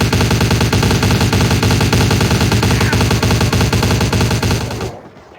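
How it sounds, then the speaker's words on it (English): Sustained automatic gunfire in the video game Vampire the Masquerade Bloodlines, a loud, dense continuous burst lasting nearly five seconds before cutting off abruptly into quiet. "You are wasting bullets in the air."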